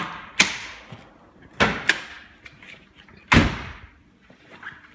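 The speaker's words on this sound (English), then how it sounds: "let's pop the engine cover." Engine cover on a Ferrari F430 Spider with manual gearbox being released and handled, with a few sharp latch clicks and thumps spaced apart, close by and fairly loud, with quieter rattles between.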